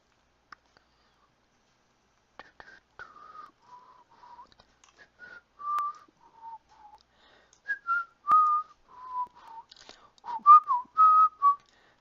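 A person whistles a wandering tune alone, with slow sliding notes at first and then louder, brighter phrases. The whistling is close and clear against near silence, with short gaps between phrases.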